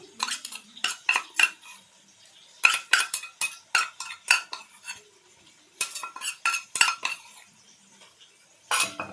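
Duck meat being mixed with ginger, pepper and garlic paste for a duck fry, with a utensil clinking and scraping against the bowl in quick bursts separated by short pauses, close and clear, no talking.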